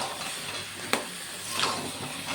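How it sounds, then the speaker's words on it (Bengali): Crab pieces and potatoes sautéing in a pan, a dense continuous sizzle with a couple of brief stirring knocks, close and moderately loud, no talking. "কাঁকড়ার সাথে আলুটাকে একটু কষিয়ে নেব।"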